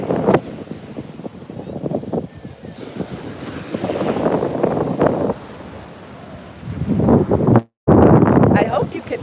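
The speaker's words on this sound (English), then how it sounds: "you can tell the contrast between how windy it sounds in and out of our little protected cubby" Gusty wind roars into the microphone outdoors in rising and falling bursts, with a person speaking intermittently underneath and a brief dropout near the end.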